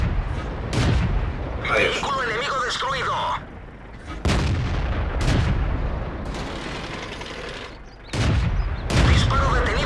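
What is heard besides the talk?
tank cannon fire in World of Tanks video game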